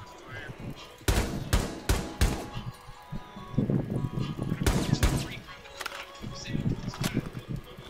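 Gunfire in Rainbow Six Siege: sharp, loud shots crack out in a few spaced single and double bursts, with players chatting over and between them.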